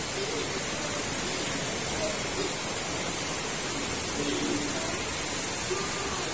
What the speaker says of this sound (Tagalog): Sana tumigil na yung ulan.